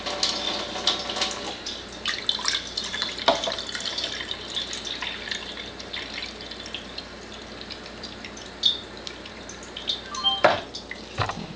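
Alkaline water runs from a Kangen KYK water ionizer, a steady hiss of flowing water with irregular splashes and drips that swell louder toward the end.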